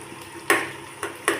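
Three tomatoes are stirred into a frying pan, three short scraping clinks of a spoon against the metal over a low steady sizzle, close by.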